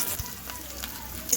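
Green chilies sizzle in a hot pan during a quick breakfast cook, giving a soft, steady frying hiss for a brief moment with no voices over it.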